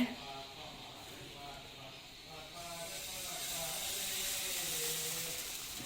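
Dosa batter cooking on a hot pan with ghee, a continuous close hiss and sizzle that grows slightly louder midway, with a person talking over it.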